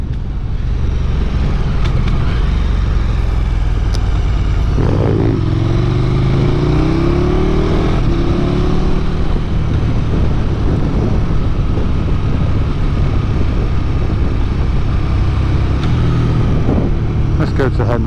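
A KTM Super Duke 1290 GT motorcycle engine pulls away, loud and close with heavy wind rumble, the revs rising in a sweeping climb before settling into a steady drone, while a rider speaks excitedly over it.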